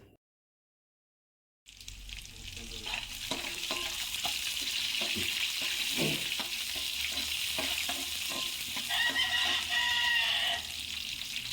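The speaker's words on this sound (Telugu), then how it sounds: "2 టీ స్పూన్ల పచ్చి పల్లీలు, పొడవుగా కోసుకున్న పచ్చిమిర్చి ముక్కలు, 2 రెమ్మల కరివేపాకు వేసుకున్న తర్వాత వాటిని కొద్దిసేపు వేగనివ్వాలి" Raw peanuts, green chilies and curry leaves fry in a pan for tomato rice, giving a steady, loud, close sizzle with occasional stirring scrapes after a brief moment of silence.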